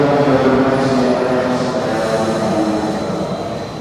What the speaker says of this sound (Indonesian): Tuh baru datang keretanya tuh.